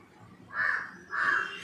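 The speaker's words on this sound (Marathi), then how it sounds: "नेमके हे कावळे ओरडत असतात." A crow caws twice in quick succession, harsh and fairly close, over faint background noise.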